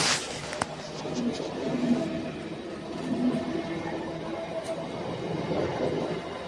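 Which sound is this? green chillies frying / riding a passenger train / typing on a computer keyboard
riding a passenger train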